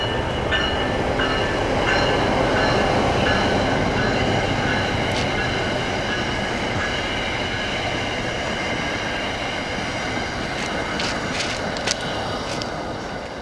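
Freight train rolling past on the former Boonton rail line, a loud, continuous rumble of wagons and wheels with occasional metallic squeals and clicks, steady from start to finish with no voices.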